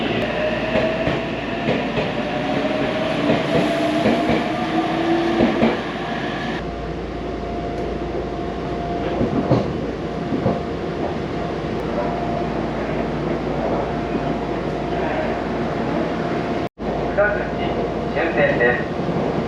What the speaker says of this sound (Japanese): やってきた電車は快速特急で